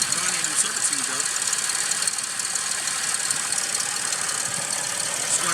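A 2005 Toyota Highlander engine idling rough with a misfire, a steady close rattle and knock that continues without a break; a person speaks over it.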